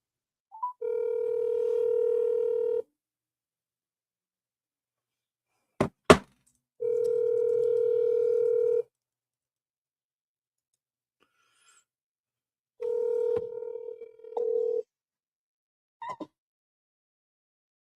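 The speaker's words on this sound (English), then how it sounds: "Let's call my older brother." A phone call is placed and rings through toward voicemail: long, even ringback tones repeat with silent gaps between them, broken once by a sharp click or clunk and a few faint handset noises.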